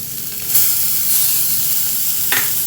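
Coriander leaves go into a hot frying pan for a spicy ragi adai filling and get stirred, giving a steady close sizzle with a couple of brief louder bursts as the greens hit the oil. No voices.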